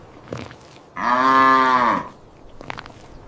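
A cow lets out a single long, loud moo lasting about a second, close by and clear, with faint quieter sounds before and after.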